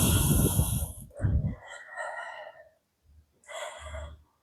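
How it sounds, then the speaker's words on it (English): Deep breathing during a yoga session: a long, loud exhale, a short sharp breath, then a softer airy breath, a pause and one more full exhale, all heard up close. "Take another round of breath."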